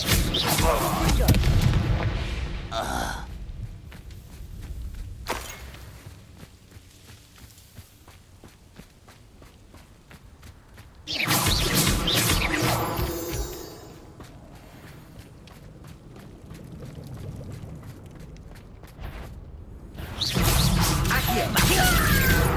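Confringo fire spells burst in Hogwarts Legacy combat, with several loud booming explosions spaced across the stretch between quieter footsteps and scuffling, while a voice speaks over the action.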